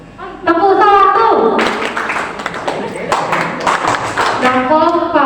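A group claps a short rhythm together in a school classroom, a burst of sharp, rapid claps in the middle, with talking just before and after.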